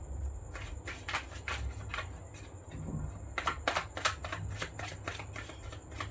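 A deck of tarot cards shuffled close up, rapid crisp riffling bursts in two runs with a short pause between, no one speaking.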